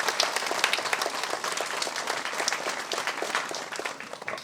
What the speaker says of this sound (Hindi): तालियों की गड़गड़ाहट से उनका भी स्वागत करेंगे